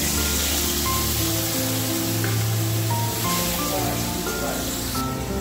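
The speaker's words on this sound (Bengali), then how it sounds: "আমি এই জলটা দিয়ে দেব।" Spiced water poured into a hot pan of sizzling tempering, a loud steady hiss and spatter filling the whole stretch without letup.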